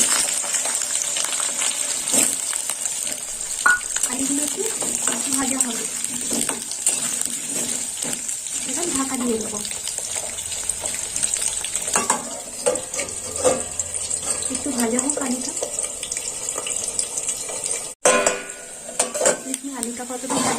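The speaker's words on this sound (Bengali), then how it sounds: "কেটে রাখা আলু দিয়ে দিই" Diced potatoes fry in oil tempered with mustard seeds, a constant hissing sizzle broken by metal spoon clinks and scrapes against the pan, with occasional talk nearby.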